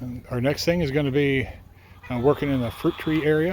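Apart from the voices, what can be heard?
laying hens clucking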